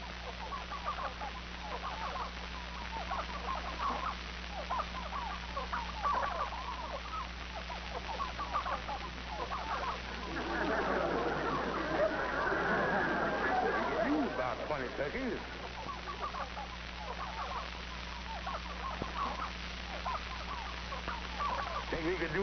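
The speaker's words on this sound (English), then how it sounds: "Nice crop of turkeys you got there." Turkeys on a farm gobble and cluck in a low, faint chorus with a louder burst midway, over a steady hum and muffled background.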